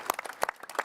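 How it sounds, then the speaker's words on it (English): Short burst of applause at a talk about a football tournament, a few hands clapping in quick, uneven claps, close and brief. "Round of applause."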